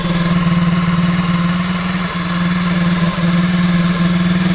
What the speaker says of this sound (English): It's got a 125cc 4-stroke motor swap on it